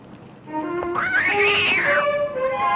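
A cat called a puma-like kitty gives one long, rising and falling meow, close and clear, with no talk over it.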